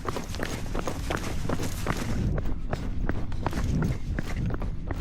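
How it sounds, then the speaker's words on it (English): Rapid footsteps of someone running, likely along a trail, a steady quick series of thudding impacts close by, with a rougher, noisier stretch in the first half. "I heard footsteps coming after me, and that's when I ran"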